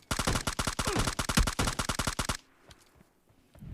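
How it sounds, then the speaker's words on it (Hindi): Automatic gunfire in the video game PUBG Lite, a dense, loud burst of rapid shots lasting about two seconds, then a few faint distant shots and rustling, no speech. "और इतने में वापस फायर के साउंड आते हैं बाहर से।"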